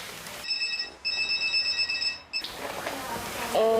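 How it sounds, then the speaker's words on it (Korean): A mobile phone rings at a police station in a 1999 Korean broadcast, giving loud repeated electronic tones in bursts with short gaps, followed by a shorter chirping ring at the end. "핸드폰이 울리기 시작했다"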